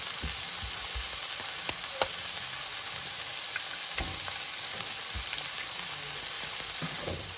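Ingredients fry quietly in a pan, a soft, continuous hiss with a few sharp clicks and scrapes scattered through, no one talking.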